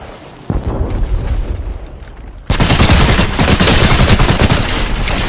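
Gunfire in a video game: a sharp report opens a rumbling stretch, then a dense, loud burst of rapid automatic shots and booms continues to the end.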